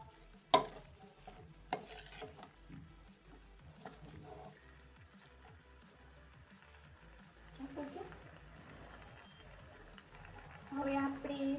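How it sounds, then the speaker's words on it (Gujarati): A utensil stirs and mixes pasta in a pan with soft, continuous scraping and light sizzling, under a voice in the background and a few sharp knocks. "આપણે સારી રીતે મિક્સ કરી લઈશું આને."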